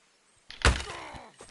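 A crossbow fires at a bandit in Kingdom Come Deliverance 2: a single sharp thunk snaps out, followed by a brief rattling decay and a faint trailing knock, close and solitary.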